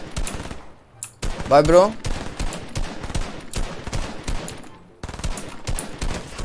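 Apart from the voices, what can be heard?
gunfire in Fortnite video game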